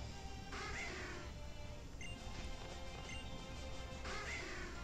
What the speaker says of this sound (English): Got a murder of crows up here.